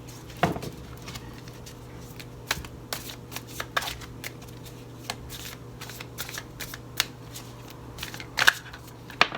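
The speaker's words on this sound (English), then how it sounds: "Cards are falling out." Tarot cards being shuffled by hand, quick papery riffles and soft slaps repeated at an irregular rhythm close up, with occasional louder flicks as cards slip out of the deck, no talk heard.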